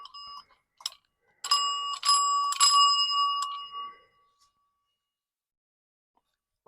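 A hand-cranked telephone bell rings in short metallic bursts, a few quick clangs separated by pauses, fairly close and otherwise quiet.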